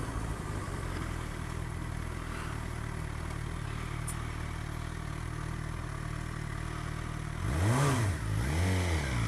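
A Suzuki GSX-R1000 K7 sports motorcycle hums steadily under wind rush while ridden, then the engine note climbs and falls twice near the end as the rider works the throttle.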